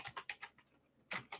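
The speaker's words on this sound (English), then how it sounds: "I'm pretty sure I'm typing this in right." Quiet typing on a computer keyboard, a quick run of about five light key clicks, a short pause, then another burst of taps, close but soft, no voices.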